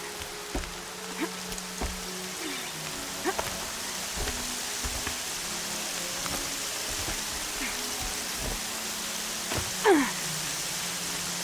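Steady rain falls in the video game Horizon Zero Dawn, a soft constant hiss with scattered thuds and chirps from the game world breaking through now and then.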